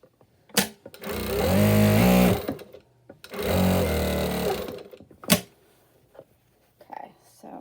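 A sewing machine stitches fabric for a homemade face mask with ties, running in two sustained bursts of rapid mechanical whirring separated by short pauses and a few sharp clicks, close and loud with no talk.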